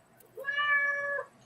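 A pet cat named Sammy gives a single clear, drawn-out meow lasting about a second, close and fairly loud, with a quiet room around it.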